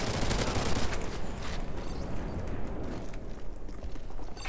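Gunfire in the shooter game Modern Warfare 3, a dense loud barrage of overlapping shots and bursts filling the whole stretch, with no talk over it.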